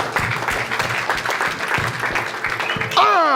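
A church congregation applauds and cheers the Lord in a short burst of rhythmic clapping mixed with crowd voices, ending in a rising shout or whistle-like cry.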